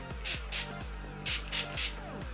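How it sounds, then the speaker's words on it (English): Several quick hissing spritzes of a makeup setting spray bottle, about five short bursts in uneven rhythm, close by over a low background hum. "spray the Urban Decay Chill Makeup Setting Spray just to hydrate my skin"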